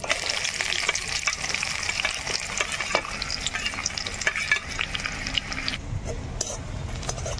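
Large sliced onions with nigella seeds fry in hot oil, a dense close sizzle with stirring scrapes and clinks throughout, easing toward a quieter stretch near the end.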